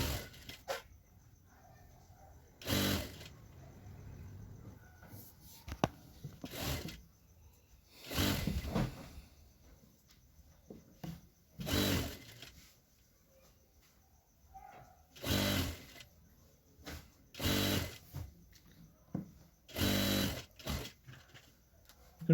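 Sewing machine stitching a ladies' pant with piping at the bottom, heard in several short, loud bursts of a few seconds each, separated by quiet pauses.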